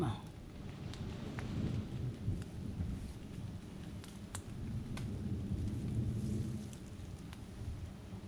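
Rain falls steadily in a Thai forest during a wild giant honeybee harvest, a constant hiss with a low rolling rumble of thunder, a few sharp drop ticks scattered on top, heard alone.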